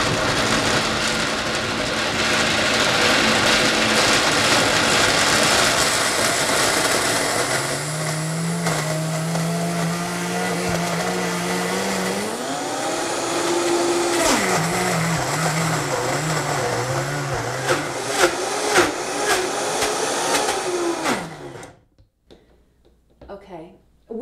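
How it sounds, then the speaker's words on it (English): A blender whirs steadily as it grinds chocolate almond butter, a loud continuous motor drone that shifts pitch partway through as the speed changes, then cuts off abruptly near the end. "we're going to blend this for probably a minute or two until it comes out to a nice smooth consistency"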